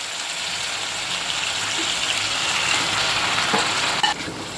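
Grated carrots sautéing in ghee in a kadai give off a steady, close hiss and sizzle, rising slightly toward the end, with a brief clink of a utensil near the finish.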